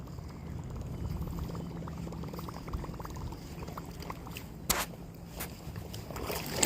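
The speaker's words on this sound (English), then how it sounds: "You just got to use your 2 legs and walk through the river." Legs wading on foot through a shallow river, soft sloshing and splashing of water around each step over a steady flowing-water wash, fairly quiet, with a couple of sharper splashes near the end.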